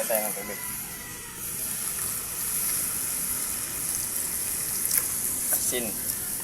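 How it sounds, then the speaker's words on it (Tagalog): Water hits a hot pan of sautéed jackfruit, onion and chili for linabog na langka sa atsuete, setting off a steady, close sizzle and bubbling that carries on without pause. "Lalagay na tayo ng tubig."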